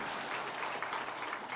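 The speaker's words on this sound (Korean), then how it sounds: "환영의 박수하겠습니다" A church congregation claps in welcome during a Sunday worship service, a steady, fairly even burst of applause filling the short stretch without any talk.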